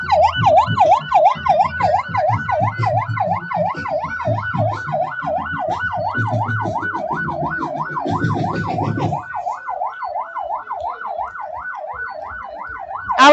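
A wailing emergency siren cycles steadily and loudly at the Corozal carnival road march, with the low rhythmic thump of a marching band's drums beneath it for the first several seconds before the drums drop away.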